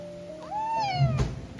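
A cat gives a single short meow with a rising then falling pitch, close by in a quiet home in Okinawa.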